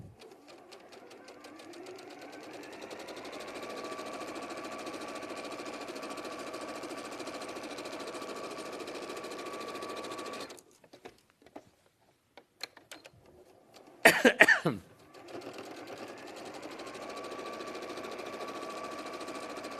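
Sewing machine running a zigzag stitch on a fabric gift bag, a steady rapid mechanical hum that stops for a few seconds, gives a brief louder clunk, then resumes at the same pace, close and alone.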